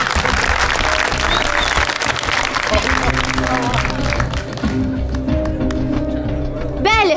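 A comedy show's studio audience applauds loudly to welcome the participants, a dense burst of clapping and crowd noise that fades toward the end while a host speaks over it.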